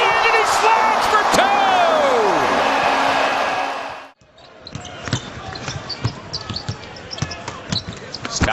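An NBA game arena with loud crowd roar and a squealing whistle-like tone, then the noise cuts out and sharp basketball bounces and thumps ring out amid sneaker squeaks and scattered talk.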